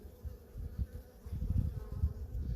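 Honeybees buzz close by during an inspection of a package bee hive, a steady low drone with fluctuating swells as individual bees pass near, no voices over it.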